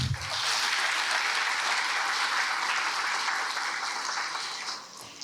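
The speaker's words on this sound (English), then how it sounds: "So let's give them a big round of applause." Audience applause at a school winter band concert: a steady, dense wash of clapping from a large crowd that fills the hall for about five seconds, then thins and fades near the end.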